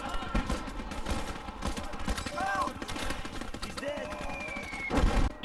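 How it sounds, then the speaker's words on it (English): Dense gunfire and rattling machine-gun bursts from a WWII strategy video game street battle, with American machine guns and anti-tank guns firing at advancing German infantry, loud and continuous, with heavier blasts mixed in. "American machine gun, and AT guns hold off Germans rushing down the street towards the objective"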